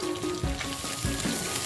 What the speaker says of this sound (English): Frying the garlic now.